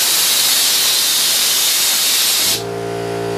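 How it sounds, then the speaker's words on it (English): A workshop air compressor lets out a loud, steady hiss of rushing air up close, which cuts off sharply and leaves a low mechanical hum running on beneath it. "That's my air compressor."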